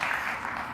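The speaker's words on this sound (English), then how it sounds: "You can clap, I love it, come on." Theater audience applauding in a steady, dense wash of clapping that holds at an even level throughout, without voices or breaks.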